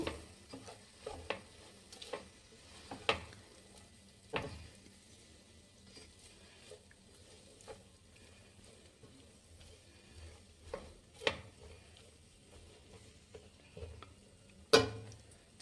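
Rice is stirred and mixed with cooked egg in a pan for hotel-style egg rice, producing faint, soft scraping and sizzling with scattered sharp clicks of the spatula against metal.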